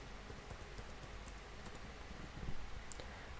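Computer keyboard typing, a quick run of light, close clicking keystrokes at a steady rhythm, faint and alone in a quiet room.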